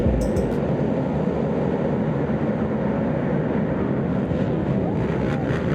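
Pack of ATV race quads roaring off the start of a muddy GNCC cross-country round, a dense steady engine drone with wind buffeting, loud and continuous throughout.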